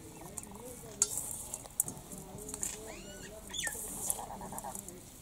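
A spoon stirs a no-cook breakfast mixture of grated coconut, sugar and cardamom in a bowl, making soft, faint scraping and patting sounds in an irregular rhythm, close by.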